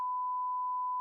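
A censor beep covers a swear word on a radio podcast, a single steady pure tone lasting about a second, alone and clean.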